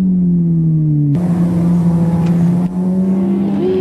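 A motorcycle engine over-revs as it is downshifted too early and used as a brake. The loud, steady drone jumps abruptly higher in pitch at each gear change, with a whining, strained tone.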